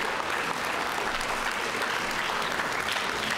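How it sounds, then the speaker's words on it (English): Sustained applause for parents from an audience at the NCSEF 2024 junior science fair awards ceremony, a dense steady wash of clapping filling the hall. "give your parents a round of applause."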